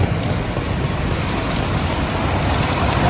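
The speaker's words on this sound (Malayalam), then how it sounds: "മഴയായിപ്പോയി." Rain pours steadily at a Kottayam bus stand, a loud, dense, unbroken hiss of drops hitting surfaces, with no voices over it.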